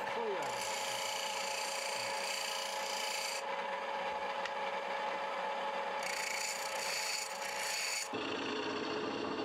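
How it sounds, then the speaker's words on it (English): Wood being shaped on a lathe for Japanese Wajima lacquerware bowls and trays, a steady rasping scrape of turning tools against the spinning wood that runs throughout with shifts in texture and pitch, close and continuous. "The wood is turned on a wheel and gouged and scraped with turning tools to create the shape."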